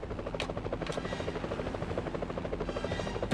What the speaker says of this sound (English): can I bite this stupid helicopter?